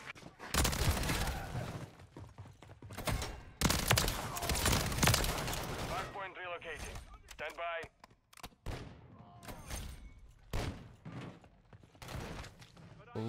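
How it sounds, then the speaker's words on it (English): Gunfire from a sniper rifle and other weapons in the video game Call of Duty: Modern Warfare III cracks in loud repeated bursts amid chaotic game audio, with a person talking at times. "Somebody's going off with that sniper rifle."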